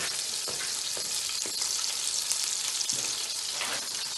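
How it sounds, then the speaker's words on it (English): Onion frying in a pan, a close, continuous hiss and crackle of sizzling with occasional soft stirring scrapes and no talking. "Onion and fry up."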